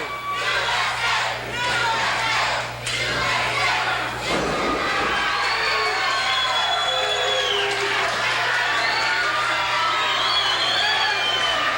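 Sellout wrestling crowd at the Junction in 1983 chanting USA, a dense roar of many voices with shouts and whoops rising and falling, loud and continuous throughout.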